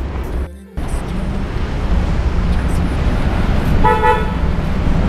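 A replaced aftermarket horn on a Honda City Hatchback gives one short toot about a second long near the end. The steady rumble of the idling car runs underneath throughout.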